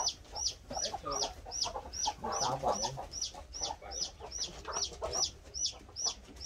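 Chickens clucking steadily in a coop, a repeated sharp call cutting through at a regular beat with softer murmuring clucks beneath, fairly close and continuous.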